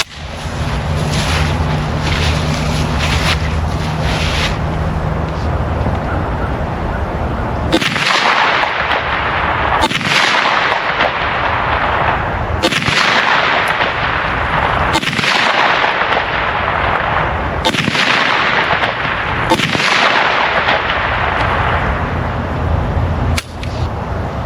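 A Kel-Tec Sub2000 Gen 3 9mm pistol-caliber carbine fires five sharp, loud shots spaced a few seconds apart, using 115 grain +P+ ammunition at 25 yards on an outdoor range.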